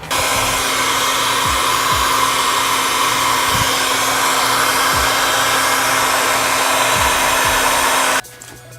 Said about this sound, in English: Gonna use a heat gun and the squeegee for that.